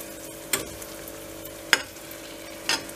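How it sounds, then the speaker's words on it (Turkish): Hot butter and oil spooned over eggs frying in a pan, a low steady sizzle broken by three sharp clinks or scrapes of the spoon against the pan. "Tekrar ısınan yağdan alıyoruz. Yumurtalarımızı pişme yerlerine gezdiriyoruz."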